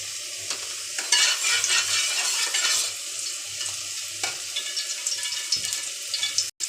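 Spice paste frying in a karahi of white oil and ghee, a steady close hiss and crackle running throughout with occasional scrapes of stirring.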